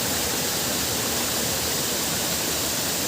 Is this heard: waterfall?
yes